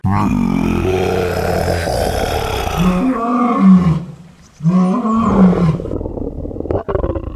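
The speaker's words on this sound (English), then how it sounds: "Here's some slow-mo shots of baseball players roaring." Loud, deep animal roars dubbed over slow-motion baseball players, a long bellowing one, then two rising, growling roars with a brief gap between them.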